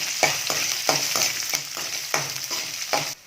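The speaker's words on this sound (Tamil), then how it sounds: "உளுத்தம்பருப்பு, வரமிளகா, பூண்டு, இஞ்சி இதெல்லாம் போட்டு நல்லா பொன்னூறுவலாக வறுத்துக்கலாம்." Urad dal, red chillies, garlic and ginger fry in hot oil for a thogayal chutney, with a steady sizzle and rhythmic, repeated stirring scrapes close by; no voices.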